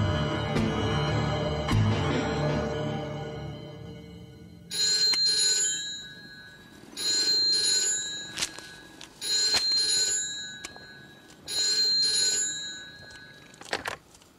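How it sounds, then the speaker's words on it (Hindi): A telephone rings in four loud, bright bursts, each trill lasting about a second and a half with short pauses between, after a stretch of louder mixed background noise. "वैद्य ही रघु का फोन है, आओ"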